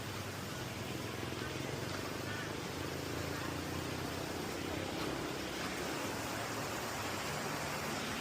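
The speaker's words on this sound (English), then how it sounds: "I hear waterfalls or something." A jungle waterfall near the hidden village of Mae Kom Pong, Thailand, gives an even, continuous rushing hiss at moderate distance. It stays steady throughout with no clear voices on top.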